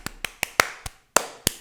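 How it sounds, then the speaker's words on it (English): Seven sharp hand claps in an irregular rhythm, close and loud, with a short pause before the last two, no talking. "Claps."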